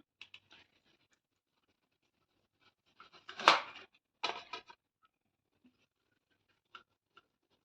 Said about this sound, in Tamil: நல்லா கெட்டியாக இருக்குது, அதனால் இப்போ நான் கட் பண்ணிக்கிறேன்.